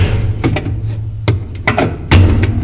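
A Kenmore top-load washer's cover snaps into place, giving a sharp plastic click and a few brief knocks over a low steady hum, the loudest thump near the end.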